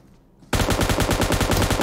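After a brief quiet moment, a submachine gun in the video game PUBG Mobile opens up in a loud, rapid, sustained burst of close gunfire with an even rhythm.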